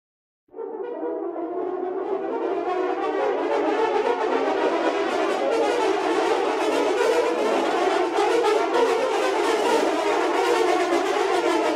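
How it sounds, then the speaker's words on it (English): French horn section from a sample library captured on a Decca tree microphone array, entering after a brief silence and sustaining a full, roomy ensemble swell for over ten seconds, with no voices. "the Deca definitely are my favorite for the French horns."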